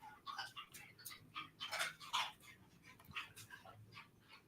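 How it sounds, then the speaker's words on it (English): Dogs crunching on ice cubes given as a treat: a quick run of crisp, irregular crunches and bites, close and moderately loud, with no talking. "Do you hear that crunching? That's my dogs eating ice."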